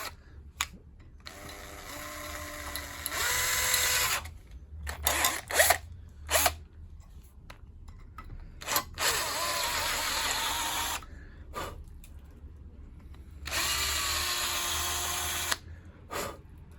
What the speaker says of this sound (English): Zinc is not famously difficult to drill.